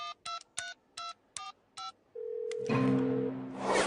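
Touch-tone telephone keys are pressed one after another, seven evenly spaced beeps, then a steady tone and a ringing line swelling louder as the call goes through.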